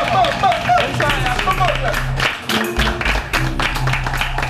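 A studio audience on a French TV show claps and cheers in a dense, continuous burst of applause under loud music.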